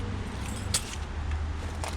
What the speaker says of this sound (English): Ooh, dropped my keys.